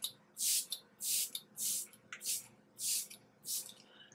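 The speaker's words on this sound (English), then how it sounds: "We're actually just going to spray this side of my face and see how it feels." Smashbox Photo Finish setting spray is pumped onto a face in six evenly spaced short hissing bursts, close and crisp in a quiet room.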